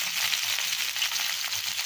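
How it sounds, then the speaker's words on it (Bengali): Rohu fish pieces rubbed with turmeric and salt fry in a pan of oil, giving a close, steady, crackling sizzle with no pauses and no voices. "আমি এখন এই যে রুই মাছ ভেজে নিচ্ছি"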